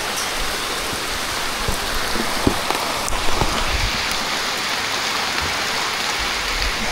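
A sudden heavy rain downpour hisses steadily and densely outdoors, a continuous wash of drops with a few louder splashes and no talk.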